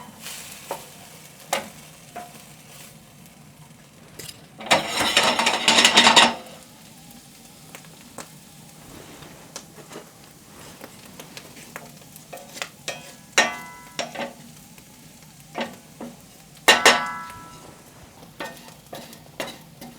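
Chickpeas toss and toast in hot oil in a pan, giving a steady sizzle punctuated by louder hissing bursts and scraping stirs as they are moved around, close and alone without talk.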